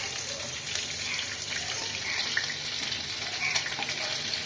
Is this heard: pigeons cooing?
no